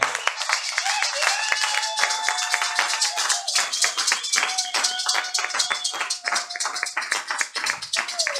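A church congregation claps rhythmically in unison, loud and steady throughout with cheering and voices mixed in, a lively sustained beat praising the Lord.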